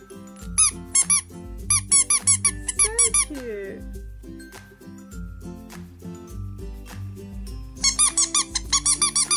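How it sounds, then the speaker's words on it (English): A rubber squeaky toy from a surprise toy cup is squeezed in rapid bursts of shrill squeaks, loud and close, over steady background music. "It's a squeaky toy."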